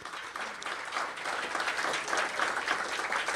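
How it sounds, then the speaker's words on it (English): Light golf clap from guests at a church benefit dinner, a brief, moderately loud patter of many hands clapping together with no voices over it. "let's give a little golf clap"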